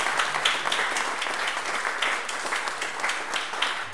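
A church congregation applauds during a Christmas service, a steady, full burst of many hands clapping at close range, evenly sustained from start to finish.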